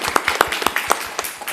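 Sparse applause from a conference audience after a life-science data integration talk, a handful of distinct claps spread irregularly over a short moment, moderately close and fairly quiet.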